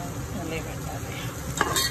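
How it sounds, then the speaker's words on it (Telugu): Ginger garlic paste sizzles steadily in a hot pan for an Andhra mutton curry, a dense constant hiss with a brief scrape of stirring near the end, close and loud with no voices. "అల్లం వెల్లుల్లి బాగా వేగింది."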